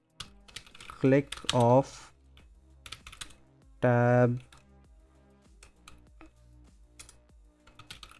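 Keys clatter on a computer keyboard as code comments are typed for an Angular weather app, quick irregular taps running throughout, close and crisp beneath a man's intermittent speech.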